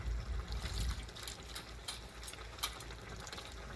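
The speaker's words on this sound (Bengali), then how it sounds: "প্রথমে তেঁতুলটা ধুয়ে নেবো" Tamarind being rinsed by hand in water in a home kitchen, soft close trickling and swishing with faint clinks, quiet and continuous without speech.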